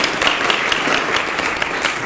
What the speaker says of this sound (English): one other round of applause for our musician, Austin.